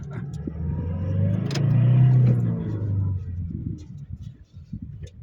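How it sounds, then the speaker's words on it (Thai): A car engine revved high in gear, a deep rumbling rise that swells to a loud peak then slowly falls away, with faint talk around it. "บางคนนี่ล่อคันเร่งสูงด้วยนะครับ"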